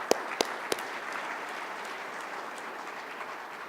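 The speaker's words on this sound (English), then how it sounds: "Please give them a round of applause." Steady crowd applause fills a fire department awards ceremony, honoring the event organizers, a dense even patter of many hands with a few sharp close claps near the start.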